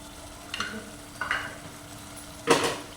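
Mutton is stirred in a hot pan as it roasts with spices, a few soft scraping strokes over a low sizzle, ending in one louder scrape.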